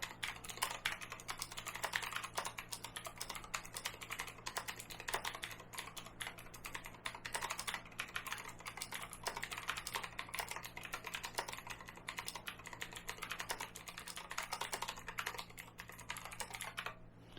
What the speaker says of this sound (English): So I'm going to start a 1 minute typing test